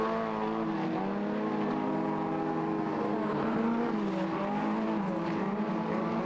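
Modified sedan race cars lapping Lismore Speedway, a steady, loud blend of several engines droning and revving together with shifting pitch, continuous throughout with no voices.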